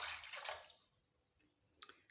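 Two cups of water are poured into a kadhai already holding sugar for gulab jamun syrup, making a short, splashy pour under a second long followed by quiet and a couple of small clinks.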